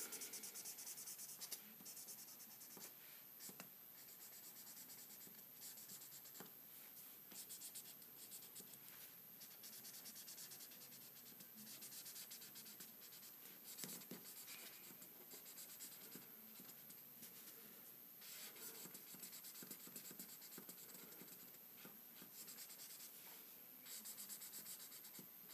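Markers scratch and rub across paper while a 3D Christmas tree craft is coloured, making a faint continuous scribbling with quick repeated strokes and short pauses, no talking.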